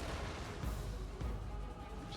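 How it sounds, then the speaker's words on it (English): Mortar shells burst in a medieval 1212 AD video game siege, dense muffled booms layered over a constant roar of battle noise, fairly loud throughout. "Mortar incoming."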